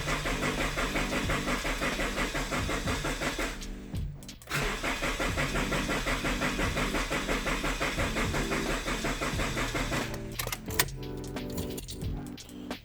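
A Scion FR-S engine with the supercharger removed cranks and fires, then settles into a steady close idle that briefly dips and continues, with a clatter near the end.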